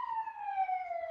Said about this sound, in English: got an ambulance going by here